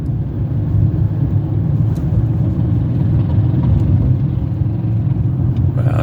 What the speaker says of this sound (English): I thought that was my car.